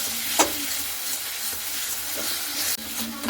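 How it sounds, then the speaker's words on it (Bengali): Fried potatoes sizzle with onion-based spice paste in a pan, a steady close frying hiss broken by stirring scrapes and a brief knock. "খুব সুন্দর করে আলুটাকে দিয়ে 1 মিনিটের মতো ভেজে নেব এইভাবে মশলার সঙ্গে"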